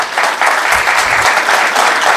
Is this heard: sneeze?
no